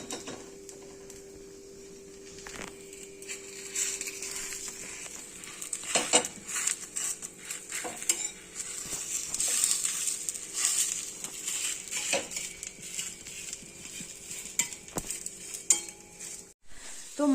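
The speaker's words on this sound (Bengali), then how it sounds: "তো মা তো ওখানে এখনো ভেজে যাচ্ছে, অনেকগুলোই ভাজবে" Patisapta, Bengali sweet crepes, fry quietly in a pan with a soft sizzle, under occasional clinks of a utensil and light kitchen clatter.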